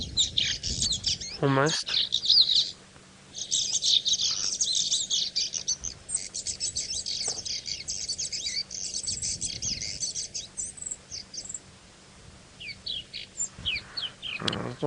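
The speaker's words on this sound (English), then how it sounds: "I'm just trying to listen to the whole call on the app, see if we get that little chattering sound." Chirping birdsong plays from a phone app during a sunset safari drive at Tingana, busy repeated tweets and chatter running through most of the stretch, with one brief word spoken early on.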